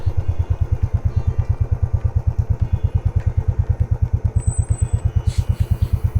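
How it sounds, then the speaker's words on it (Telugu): A motorcycle engine thumps in a fast, even rhythm close by, loud and steady for several seconds near a temple in Tirupati, with no talk. "పైనుండి వెహికల్ వస్తుంది"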